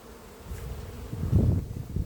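A few honeybees flying near hive entrances at an apiary give a soft, low buzzing hum that swells briefly and fades, fairly close and without talk.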